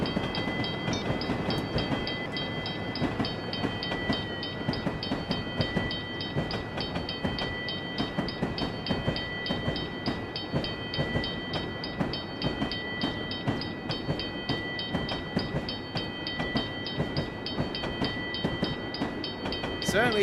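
A train with a caboose at the tail running steadily in Train Simulator Classic, a continuous loud rumble with rhythmic wheel clatter and a sustained tonal whine throughout.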